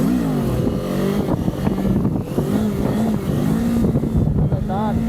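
Motorcycle engine revving hard during a sit-down wheelie, the throttle handled harshly, its pitch rising and falling in uneven surges under a talking rider's voice, close and loud throughout.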